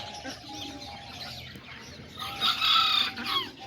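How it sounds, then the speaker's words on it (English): Several miniature Azteca and Serama roosters crow and cluck close by, a louder crow rising near the end over soft barnyard background. "This is all the roosters."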